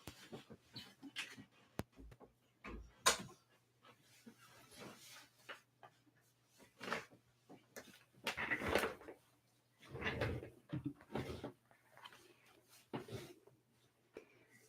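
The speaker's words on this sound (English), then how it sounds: "I'm gonna go close that city door." A door being shut indoors, with scattered knocks, thuds and handling bumps in a quiet room, moderately close and fairly soft.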